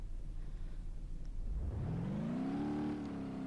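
An 8x8 utility truck in the BeamNG.drive driving game pulls away, its engine rising steadily in pitch as it accelerates, a smooth revving drone over a low rumble with no talk.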